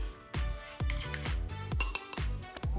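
Whisking miso marinade for salmon in a bowl, with a utensil clinking and tapping against the bowl in a quick irregular rhythm of sharp, ringing strikes, close and alone.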